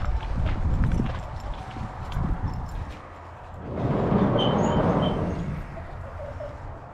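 A couple of horses walking on a hobby farm, with soft hoof clops and shuffling steps that come in two louder stretches, while birds and chickens chirp and cluck faintly in the background.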